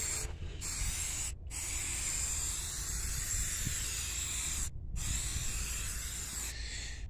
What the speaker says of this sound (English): Let's spray it up here.